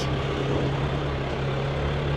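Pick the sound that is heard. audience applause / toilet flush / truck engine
truck engine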